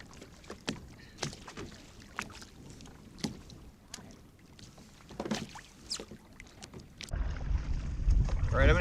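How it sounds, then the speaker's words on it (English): Kayak paddle strokes dip into the water in a steady rhythm during a catfishing tournament outing, each splash close and distinct. Near the end a gust of wind buffets the microphone. "I'm going to talk while I'm paddling"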